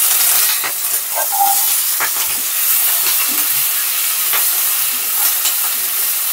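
Onion stalks frying in mustard oil, giving a steady, bright sizzling hiss with a few soft clinks and stirring scrapes, no voices.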